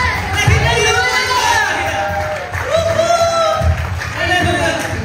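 Church congregation shouting and cheering in praise during a worship service, a loud crowd roar of many voices with rising whoops and bursts, sustained throughout.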